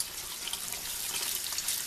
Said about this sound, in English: And I just kind of run this underwater for maybe 30 seconds.